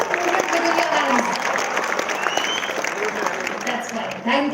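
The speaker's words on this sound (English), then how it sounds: "Can I get again a big round of applause?" Applause from a crowd at an inauguration ceremony, sustained clapping with voices and a speaker's voice cutting through over it.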